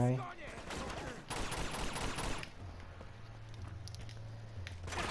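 Gunfire in the Uncharted game, a burst of rapid shots in the first seconds, then a low steady game tone and sparse clicks under faint background.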